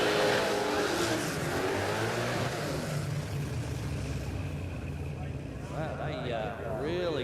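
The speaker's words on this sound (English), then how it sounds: "Nice big smoky burnouts there." A drag racing car does a smoky burnout at Warwick Dragway, its engine roaring loud and steady throughout while a commentator talks over it.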